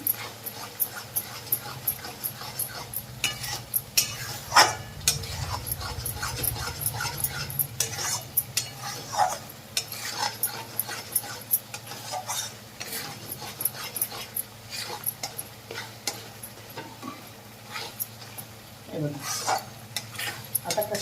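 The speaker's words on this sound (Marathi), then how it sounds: "अडीच ते पावणे तीन चमचे मसाला घातला चांगला मिक्स करून घ्यायचं" A spoon stirs spice masala into mutton in a cooking pot for a spicy mutton curry, giving steady scraping and clinking of metal against the pan, with occasional louder knocks throughout and no one speaking.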